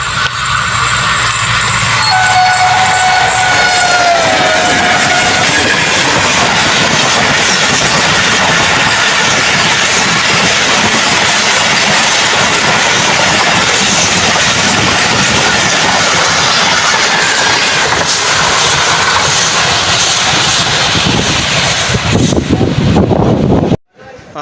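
A Pakistan Express passenger train sweeps past at full speed on the approach to Multan, with loud continuous wheel and rail roar and clatter filling the whole stretch, a brief whistle-like tone early on, before cutting off abruptly at the end.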